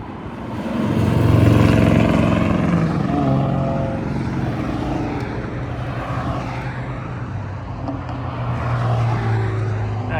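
Race cars driving on a track cross course, with a loud mix of engines roaring past that swells early and then stays steady, with a faint voice underneath.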